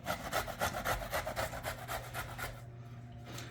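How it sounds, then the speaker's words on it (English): Fresh ginger ground by hand for homemade ginger beer: a steady back-and-forth rasping scrape, about two strokes a second, close and fairly loud, easing off near the end with no talk. "We got some ginger here. Grind ginger."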